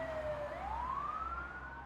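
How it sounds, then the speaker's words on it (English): A distant emergency siren wails in a single slow rising sweep, faint over a low rumbling background. "Then they shut the ambulance doors and sped off with the sirens blaring."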